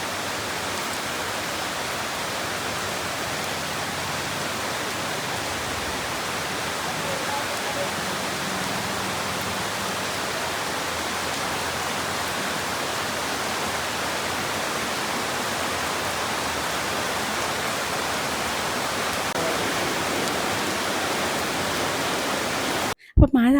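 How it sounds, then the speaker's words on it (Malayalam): Light rain falling outside a home in Kerala during a holiday visit: a steady, even wash of soft patter and hiss that stays unbroken for the whole stretch, with no voices, and ends in a brief clatter. "അപ്പോഴാണ് മഴ തുടങ്ങി"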